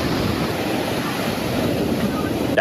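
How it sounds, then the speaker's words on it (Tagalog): Large, strong waves crash against the shore of a coastal barangay in Talisay City, Cebu, during rough weather, a loud, dense, unbroken roar of surf mixed with wind buffeting the microphone. "Ganito kalaki at kalakas ang mga along humahampas sa baybayin ng Barangay Kansohong sa Talisay City"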